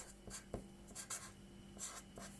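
A pen or marker writes the letter x while Python string indexing is explained, giving several short scratchy strokes close up over a steady faint hum, with no talking.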